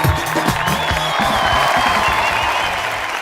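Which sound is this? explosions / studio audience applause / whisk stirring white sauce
studio audience applause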